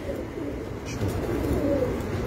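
A pigeon on a rooftop gives soft, low, rolling coos that blend into steady outdoor background noise, at moderate distance and fairly faint, with no talk.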